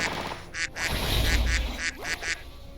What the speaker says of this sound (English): The arrows sound like ducks.